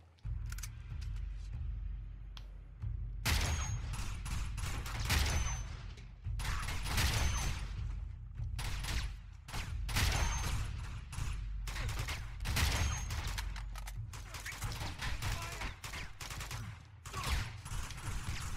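Gunfire in the video game Uncharted 2: Among Thieves, with sniper shots and bursts of automatic fire crackling repeatedly through a sustained firefight, dense and loud with brief gaps between volleys.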